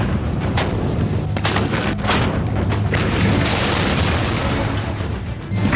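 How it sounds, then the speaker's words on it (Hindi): Artillery shells from Pakistani shelling explode around the Kargil administration headquarters during the 1999 Kargil War, a loud, continuous barrage of dense rumbling blasts and booms with no voices. "पाकिस्तान की तरफ से करगिल प्रशासन के शुरू में बने नए मुख्यालय पर तोप के गोले बरसे"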